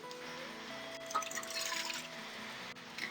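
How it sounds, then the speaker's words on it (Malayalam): A cup of water is poured into a pan to start a gravy, giving a soft, steady trickle and splash that runs for a few seconds, faint and close, with no talk over it. "ഇതിലേക്ക് 1 കപ്പ് വെള്ളം ഒഴിച്ചു കൊടുക്കാം."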